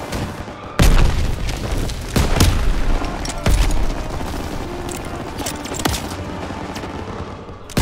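Grenade explosions and gunfire in a World War II battle in Call of Duty: WWII, with loud booming blasts near 1, 2.3 and 3.5 seconds over constant crackling combat noise and distant shots.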